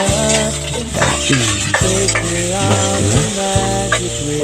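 Dried salted fish (daing) sizzling and crackling in hot oil, close and loud, with a steady hiss and occasional sharper spatters and pops.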